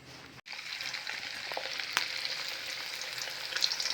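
Rice flour methi puri frying in hot oil, a steady close crackling sizzle with small pops and a brief clatter near the start, no talking.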